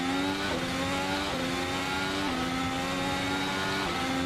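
A 2017 works Ferrari racing engine in Assetto Corsa drones loudly and continuously, its pitch rising and dipping with each gear change as the car climbs out of Acqua Minerale, with no talk over it.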